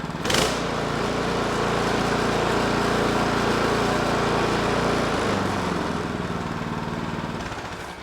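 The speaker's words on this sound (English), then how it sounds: "how to diagnose and get this Husqvarna snowblower running. It's an ST224." Husqvarna ST224 snowblower with its small gas engine running steadily at close range, a loud continuous drone that holds an even pitch for the whole stretch after a brief start, with no talking.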